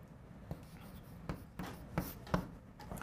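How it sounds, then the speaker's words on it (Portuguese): Quiet scratchy strokes of writing on a board during a calculus lecture, with a few short taps and scrapes spread over about three seconds in a calm room. "Agora, então deixa eu escrever assim."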